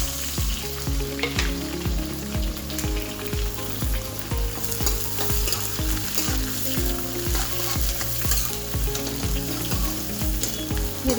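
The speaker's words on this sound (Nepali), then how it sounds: "फेरि प्याजलाई पनि एकछिन रातो बनाउँछु" Onions frying in a pan for biryani, a loud, dense, continuous sizzle with regular scraping stir strokes throughout, close and unbroken by any talk.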